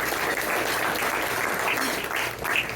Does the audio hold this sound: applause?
yes